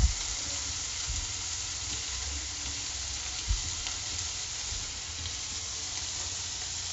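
Capsicum and egg stir-fry cooking in a pan, a soft continuous sizzle with an occasional light stir or tap, close and fairly quiet, no voices.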